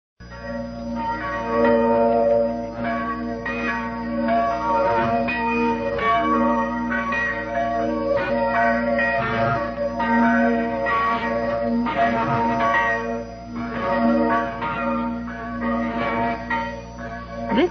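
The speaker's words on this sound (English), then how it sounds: "listen to the church bells of Eggyville, a village in the upper part of the Emmental Valley in the canton of Bern" Church bells of Eggiwil, a village in the Emmental valley of canton Bern, ring in a continuous overlapping peal, several bells swinging in steady rhythm, heard through a slightly narrow, filtered shortwave radio broadcast.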